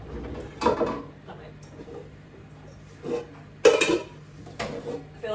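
Someone rummages through a kitchen cupboard for a big cooking pan, producing scattered clanks and rattles of metal cookware and a drawer or door knock in bursts between quieter pauses.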